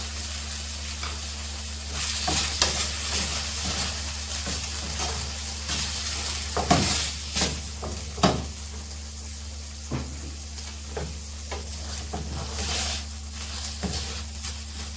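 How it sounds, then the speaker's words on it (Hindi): Chicken pieces fry in a pan with a steady, close sizzle that runs throughout, broken by occasional scrapes and clinks of stirring, with no voices. "चिकन को अच्छी तरह फ्राई करने के बाद 2 टीस्पून नींबू का रस वो डाल देते हैं"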